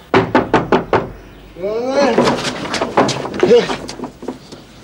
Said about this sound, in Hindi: फिर मल्ले के प्रधान ने रुलिया राम का दरवाजा खटखटाया खट खट खट